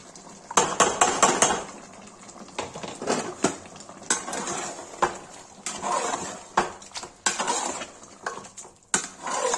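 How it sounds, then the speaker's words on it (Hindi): Tomatoes go into a pan for mutton curry and are stirred with a metal spoon, making repeated close clanks and scrapes against the pan over a faint sizzle. The rhythm is uneven and there is no speech. "गाइस अब टमाटर डाल देंगे।"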